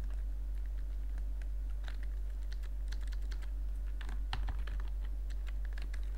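Code typed on a computer keyboard for a Python tutorial, a steady patter of close key clicks over a constant low hum, with no voice.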